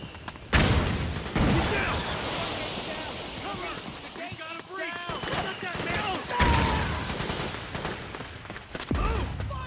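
Gunfire bursts crackle through a Metal Gear Solid 4 battle scene while voices shout and talk over the shooting, with dense, continuous action noise throughout.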